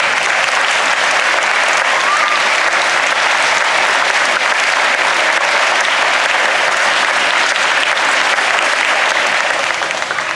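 Sustained, loud applause fills a school board event hall as an audience welcomes a speaker to the stage, dense and steady clapping from a large crowd continuing without letup throughout.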